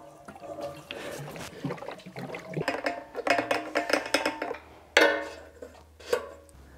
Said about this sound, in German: Der erste Sprit in den neuen Tank.